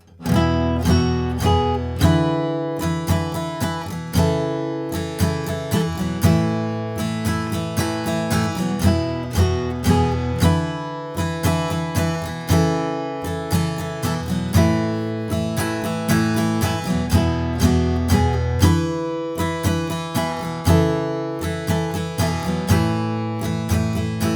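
Acoustic guitar strums the bridge of a song, a steady down-up strumming pattern of ringing chords, close and full, with no voice over it.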